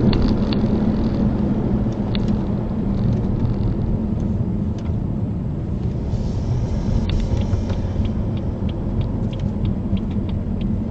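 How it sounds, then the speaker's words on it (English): A car lapping a race track on a track day, a continuous low engine rumble and road roar that holds steady throughout, loud and close. "Brilliant to be able to enjoy a car on track."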